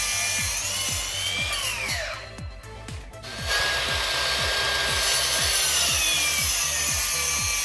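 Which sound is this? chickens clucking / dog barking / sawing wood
sawing wood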